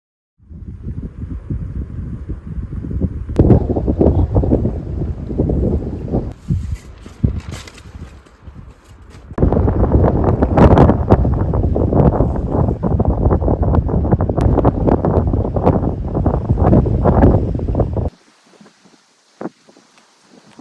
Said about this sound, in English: the winds are still blowing out of the south as forecasted